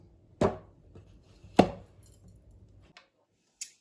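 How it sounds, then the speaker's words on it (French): Citrus zest and candied peel for calisson shortbread being chopped in a moulinette: two sharp, loud bursts about a second apart, then a faint tap and a soft click in a quiet room. "j'ai passé à la moulinette"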